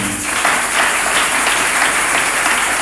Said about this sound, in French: Est-ce que tu peux acclamer d'abord pour toi-même?